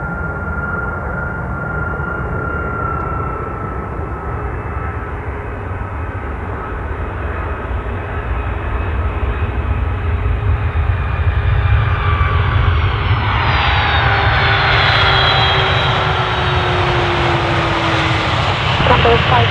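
Boeing 757 airliner of National Airlines landing on runway 28 at Poznań Airport, a steady loud jet engine roar with a whining tone that swells and brightens toward the end as the aircraft passes close, with radio talk underneath.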